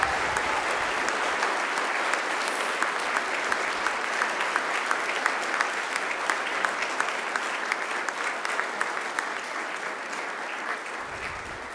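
University graduates at a Macquarie graduation ceremony applaud their families and friends. The sustained, crowded clapping is loud and even, with a few sharper individual claps standing out and no voices.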